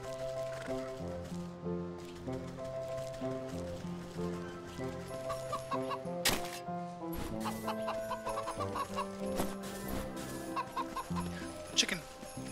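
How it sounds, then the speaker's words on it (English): A chicken clucks repeatedly in the video game Wytchwood, a run of short, fairly close clucks over a bed of game music. "Chicken."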